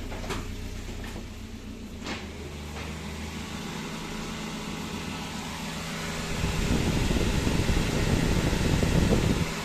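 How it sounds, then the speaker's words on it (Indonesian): Electric radiator cooling fan of a Daihatsu Gran Max van with an overheating, white-smoking, oil-burning engine, whirring steadily and then swelling louder and rougher partway through, a continuous close mechanical rush. "kipas nyala"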